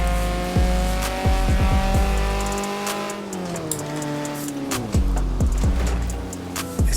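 A 1986 Ford Escort RS Turbo in Forza Horizon 4 drives hard, its engine loud and close, climbing and dropping through quick gear changes, with sharp revving surges and bursts of tire squeal.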